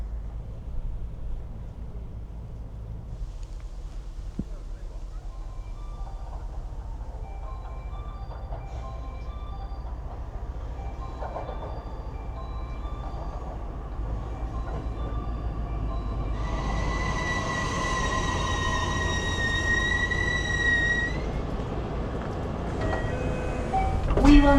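A train in Nara pulling out of a sunny station platform, with a low steady rumble slowly building, a chime and announcement tones rising partway through, and a louder clatter near the end.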